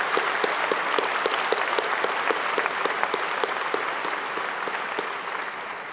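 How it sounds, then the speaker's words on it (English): A crowd at a fall undergraduate commencement ceremony claps steadily for the platform guests, a dense, even round of applause with individual sharp claps standing out, fading slightly toward the end. "Please join me in a round of applause for these platform guests."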